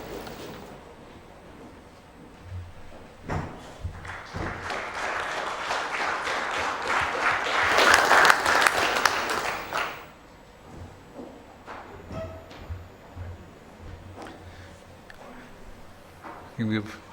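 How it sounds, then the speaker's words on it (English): Audience applause after a speaker's address at a formal event, swelling from scattered claps to a dense burst before stopping abruptly, with talking and room noise before and after. "Please join me in applauding Mr. Sivaraman for his wonderful address."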